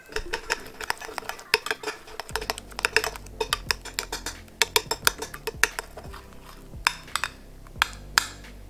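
A glue-free slime mixture thickened with salt is stirred in a bowl, producing rapid clicking and clattering taps of a utensil against the bowl in an irregular, continuous rhythm up close.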